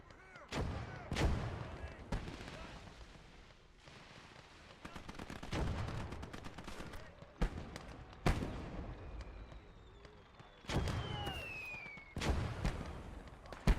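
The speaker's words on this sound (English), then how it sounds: "God, that mortar's unreal." Mortar rounds in a USA-versus-Soviet alternate-history war video game: repeated heavy booms land every couple of seconds, each a sharp thud that rolls away, over a low battlefield rumble with faint voices.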